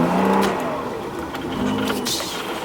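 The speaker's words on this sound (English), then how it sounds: "You got people like me with my exhaust just going crazy" A car's loud aftermarket exhaust revving during a snowstorm as the car slides in snow, engine tones rising and falling with a roaring, rumbling note, close and sustained.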